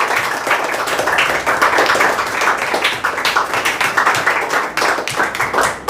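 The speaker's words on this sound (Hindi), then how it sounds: "अब एक बार अपने लिए ताली बजाओ।" A seated audience at a motivational talk by a retired CISF havildar bursts into loud, dense applause, many hands clapping together in a steady, sustained roar that never pauses.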